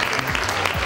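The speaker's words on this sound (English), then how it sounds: "A nice round of applause for Sarah." An audience at a keynote magic show claps, giving a short burst of dense, close applause.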